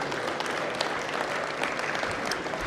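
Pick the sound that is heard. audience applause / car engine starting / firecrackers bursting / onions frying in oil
audience applause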